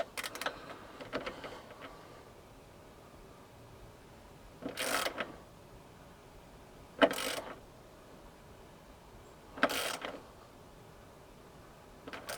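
A wrench ratchets in three short bursts while bolts are tightened on an SW-Motech luggage mount fitted to a Honda Transalp 750 motorcycle, each click run spaced a couple of seconds apart against quiet background.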